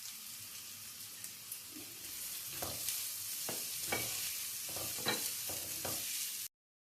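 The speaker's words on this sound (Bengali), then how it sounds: "আগে ভাজি একটা পেঁয়াজ মিডিয়াম সাইজের পেঁয়াজটা তুলে দিলাম" Chopped medium-sized onion fries in a pan with a steady, fairly quiet sizzle, punctuated by several stirring scrapes and taps toward the end.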